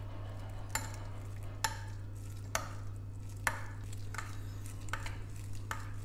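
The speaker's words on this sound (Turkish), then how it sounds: "Bunu iyice karıştırıyorum." Yogurt mixed with mint being stirred in a bowl, a steady series of sharp spoon knocks and scrapes against the bowl over a low background hum, with no voices.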